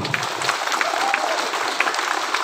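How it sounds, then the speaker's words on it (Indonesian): Applause from an audience at a school gathering in a high school hall, a dense, even clapping that runs steadily throughout with a faint crowd murmur. "Ternyata prestasinya luar biasa, tepuk tangan dulu."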